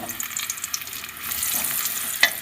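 Torn pieces of stale leftover roti fry in a little oil in a deep pressure cooker, giving a steady soft sizzle with light scraping of a stirring spoon and one sharper clink near the end.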